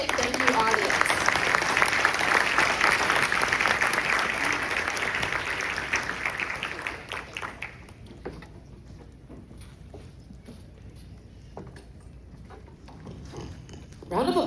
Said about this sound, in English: Round of applause for the flexibility of our panel